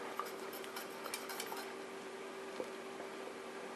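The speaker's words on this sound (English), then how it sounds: "While it's heating up, I have to continuously stir it." Khandvi batter being stirred continuously in a pot as it heats, with a steady low scraping bed, light metallic clicks of utensil against the pan, and a few brighter taps; no speech.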